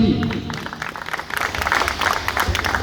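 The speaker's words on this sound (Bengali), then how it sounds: "সবাই একটা করতালি।" An audience claps together at a badminton tournament prize-giving ceremony: a dense, steady wash of many hands lasting the full few seconds, with a faint voice mixed underneath.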